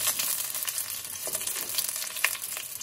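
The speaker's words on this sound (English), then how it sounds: "Now I'm going to add my curry leaves, and I'm going to turn the temperature down just a little bit." Curry leaves crackle and sizzle in hot oil with mustard seeds for a pigeon pea curry, a dense, steady frying hiss with scattered sharp pops close by and no talking.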